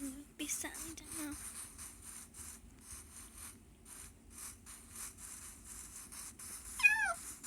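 A cat meowing in a video game, a few short faint meows early and a rising, wavering meow near the end, heard under people talking and chatting.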